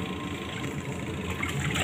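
A white-and-green Toshiba VH-H95MN twin-tub washing machine (9 kg) running, giving a steady, even motor hum with a low rumble throughout and no talking.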